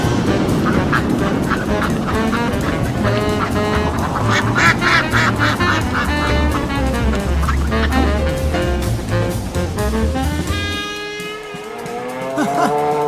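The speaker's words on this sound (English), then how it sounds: "Ducks?" Loud, busy scene with ducks quacking amid rushing wind and mixed noise, dense honking calls layered throughout and fading slightly toward the end.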